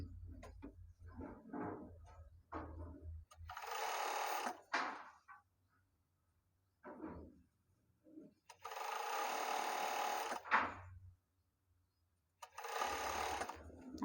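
A sewing machine stitches a T-shirt hem in bursts of steady whirring, close and clear, several runs of a few seconds each separated by quiet gaps and scattered light handling clicks.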